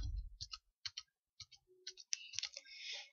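Computer keyboard keys being pressed one at a time, sparse sharp clicks with gaps between, close and fairly quiet, ending in a brief burst of faster clicking.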